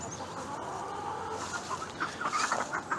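Backyard chickens cluck softly in a garden near an open compost pile, with scattered low clucks rising into a few louder calls toward the end over steady outdoor ambience.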